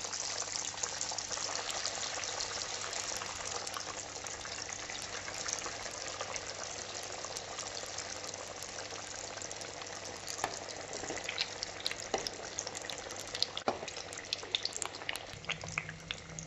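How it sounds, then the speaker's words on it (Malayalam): Mackerel fish cutlets sizzle steadily in hot oil, a dense, continuous crackling hiss that carries on without pause throughout. "ഇനി നമുക്ക് ചൂടായ എണ്ണയിലേക്ക് നമ്മൾ നേരത്തെ ഷേപ്പ് ചെയ്ത് വെച്ചിരുന്ന കട്ട്ലറ്റ് ഓരോന്നും ഇട്ട് കൊടുക്കാം."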